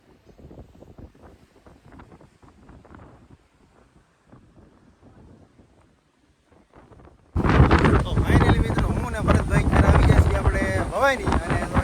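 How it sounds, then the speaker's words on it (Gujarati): Strong seaside wind buffets the microphone near a lighthouse, harbour and Bhavani temple on the coast, first as faint gusts under someone talking, then a sudden loud roaring blast of wind noise. "જો અત્યારે ફૂલ પવન છે વોઇસ કે આવશે નહીં"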